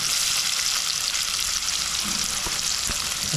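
Chopped onion fries in a pan with cinnamon, black pepper and bay leaf for a crab curry, giving a loud, steady, close sizzle that runs without a break the whole time.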